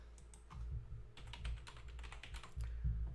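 Rapid clicks of computer keyboard typing run in quick, uneven bursts over a low background hum, close and faint while a search is typed into a website during an Elite Dangerous session.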